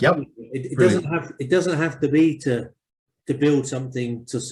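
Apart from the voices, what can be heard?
None of the usual background noises is heard.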